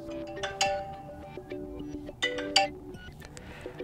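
An iPhone running iOS 18 plays its ringtone at low volume, a soft chiming melody of bright tonal notes with a few sharper accents, heard alone without talk.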